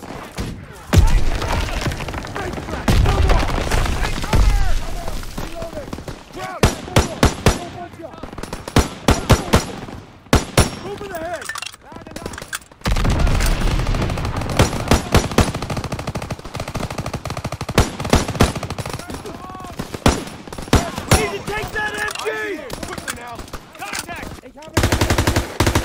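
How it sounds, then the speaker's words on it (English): Call of Duty WW2 battle with bursts of machine gun fire and scattered gunshots, loud and near, coming in rapid volleys and broken by brief pauses, with soldiers' voices calling out in between. "Gunfire. We must be near our guys."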